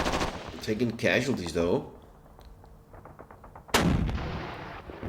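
Gunfire from the Modern Campaigns Middle East 67 wargame, sharp bursts of shots cracking out at the start and again near the end, with someone talking over the first volley.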